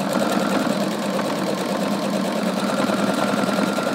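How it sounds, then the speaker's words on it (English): A sewing machine zigzag stitching to repair a hole in Nike Dri Fit pants with Eloflex thread, a steady rapid mechanical whir and needle rattle running continuously up close, with no talking. "So basically now I'm just gonna stitch."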